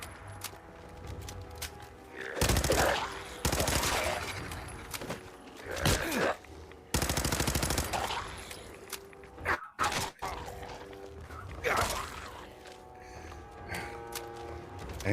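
Bursts of gunfire ring out during a fight against ghouls in the video game Fallout 4, with several loud, rapid volleys separated by quieter gaps and some game noise between them.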